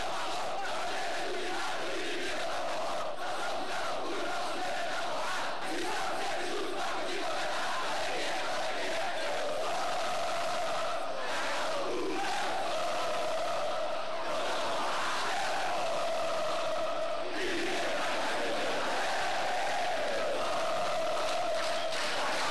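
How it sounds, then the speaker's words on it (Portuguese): Football supporters chant in the stands, a dense, steady roar of many voices carrying a rhythmic chant, loud and continuous throughout with no pauses. "esta torcida dita o ritmo nas arquibancadas"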